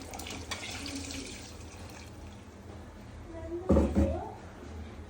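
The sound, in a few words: water being added to chicken sambar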